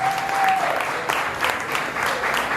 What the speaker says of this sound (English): Clap it up for my man Taylor Barnes.